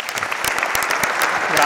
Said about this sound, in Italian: accogliamolo con un bel applauso.